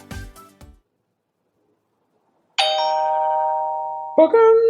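A short burst of talk, a pause of silence, then a bright synthetic custom push-notification chime rings out with sustained tones, followed by a second chime tone.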